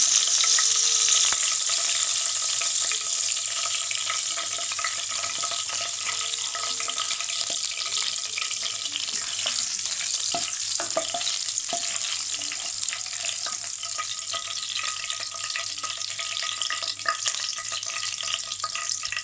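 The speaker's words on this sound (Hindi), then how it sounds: "अब इसके अंदर ऑयल गर्म होने के बाद जिंजर का पेस्ट जो है वो इसके अंदर डाल दिया।" Ginger paste frying in hot oil in a pan, a steady bright sizzle with occasional stirring scrapes and small crackles, close and continuous with no voices.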